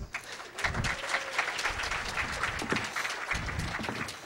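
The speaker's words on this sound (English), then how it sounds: "Everyone applaud for Laz" At a security conference, the audience gives Laz a steady round of many hands clapping, slightly distant and even throughout, with some low thumps underneath.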